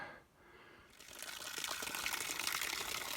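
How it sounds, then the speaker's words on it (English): Spring water flowing from a short pipe beside a hiking trail, a faint trickle that swells into a steady splashing stream after a quiet start, with no talk. "I found a water source off the trail here"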